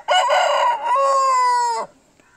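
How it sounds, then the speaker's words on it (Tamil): A red-black country rooster (sengaruppu seval, a kattu seval breed over 4 kg) on a farm near Coimbatore gives one loud, close crow lasting under two seconds, rising then holding a long drawn-out tone before cutting off. "இது செங்கருப்பு சேவல்."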